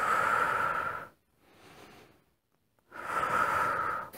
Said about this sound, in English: you just inhale and stretch your leg out, your legs out, and exhale when you bring them in